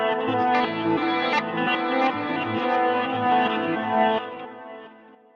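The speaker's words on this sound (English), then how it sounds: "You will hear a reverse delay," A Line 6 Helix guitar processor plays a reverse delay effect, swelling guitar notes rising into each other with a washed, backward-sounding sustain, layered and continuous before fading out at the end.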